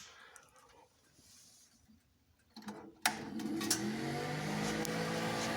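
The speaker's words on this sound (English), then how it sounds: "So I'm going to turn that fan on, and then we'll see what happens." Blower fan on an Englander 17-VL wood stove switching on: after a quiet stretch with faint ticks, a click and a thump bring in a steady whirring hum that continues close by to the end.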